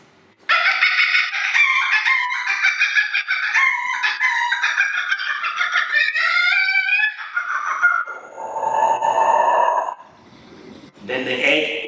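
A man vocally imitates a hen about to lay eggs, giving a long run of loud, stuttering clucks and squawks that rise into a drawn-out cackle, with a brief pause before a final burst.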